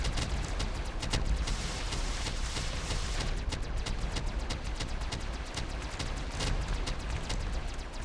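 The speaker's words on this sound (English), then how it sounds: "Missile launchers are fantastic." Missile launchers firing repeatedly in the survival strategy game From Glory to Goo, a dense, continuous barrage of crackling bursts and booms layered over a steady rumbling roar, with no pauses throughout.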